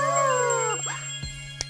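A cartoon puppy gives a few drawn-out, falling whimpers and howl-like cries, close and fairly loud, with a short faint tap near the end.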